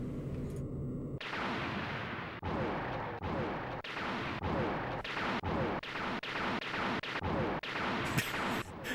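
Loud, dense rumbling blasts and booming bursts repeat in quick succession, a near-continuous barrage of game-style explosions with sharp breaks between them.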